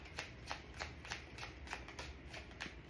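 Tarot cards being shuffled for a love reading, a steady run of soft riffling bursts roughly every third of a second, close and clear with no talking.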